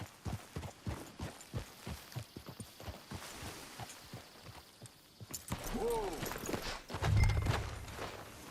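Horse hooves clip-clop at a steady walking rhythm in the Red Dead Redemption 2 video game, fairly quiet and close, followed by a swell of louder ambient game sound near the end.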